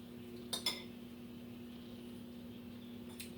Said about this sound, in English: I need to stir in about half a cup of the hot mixture into the eggs